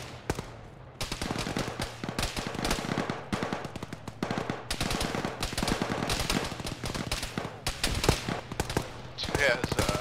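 Dense, rapid bursts of machine gun fire crackle through an Arma (ShackTac) video game battle, sustained and loud across the whole stretch with overlapping volleys, while players talk over the shooting.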